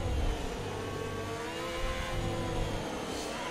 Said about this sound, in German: Vollgas wieder.